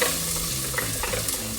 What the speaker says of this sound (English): my favorite sound when it comes to cooking is when the onions hit the pan